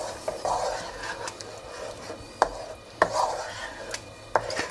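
Double cream stirred into a pan over gentle heat, a soft continuous scraping with a few sharper clinks of utensil against the pan, close and fairly quiet.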